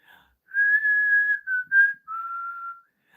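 Close, clear whistling of a few sustained notes with short breaks, the pitch dropping slightly on the last long note, with no talking.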